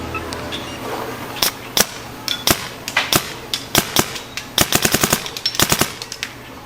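A DLX Luxe paintball marker fires in cold weather, sharp cracks in irregular bursts and rapid strings, some shots spaced apart, others fired quickly in sequence, loud and close with no talking.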